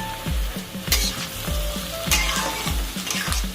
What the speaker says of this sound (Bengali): এবার রসুনটা দেবো তেলে